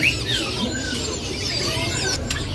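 An orange-headed thrush kept at a bird market sings in varied whistled phrases and squeaky chirps over a busy background hum, fairly close and clear.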